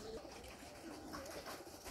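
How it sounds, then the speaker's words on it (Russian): Pigeons at a pigeon loft coo softly as they are driven out, faint and distant over a low background hum, with no one talking. "Выгнал голубей."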